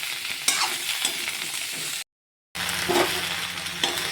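Yardlong beans, okra, taro and jackfruit seeds fry in a pan, giving a steady close sizzle with scraping stir sounds that briefly cuts to silence before resuming.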